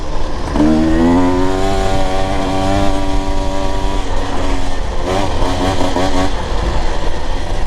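A Husqvarna TE 150 TBI fuel-injected dirt bike engine runs loud and close without pause, its pitch climbing and dropping as the rider accelerates and shifts gears, with a brief dip where a shift happens.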